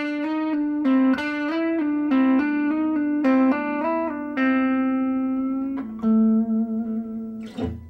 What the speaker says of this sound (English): here's how the lick sounds slow